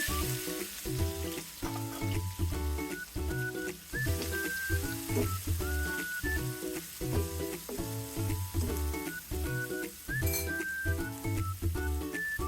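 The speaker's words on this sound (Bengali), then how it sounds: "পেঁয়াজগুলোকে আমি হালকা বাদামি করে ভেজে নেব" Chopped onions fry in hot oil for a chital fish curry, a continuous dense sizzle with occasional stirring, heard beneath steady rhythmic background music.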